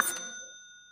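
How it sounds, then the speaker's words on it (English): A bright bell-like money chime rings once, a sharp struck onset followed by several clear sustained tones that decay slowly over about a second, alone without talk. "Hit them with the money chime."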